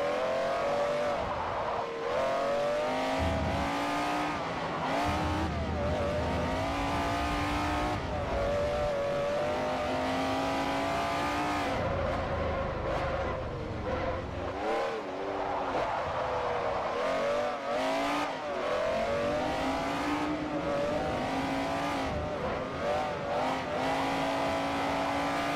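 A race car engine in the video game Forza Motorsport 4 roars loudly and continuously, its pitch climbing and dropping as it revs and shifts, with occasional tire squeal.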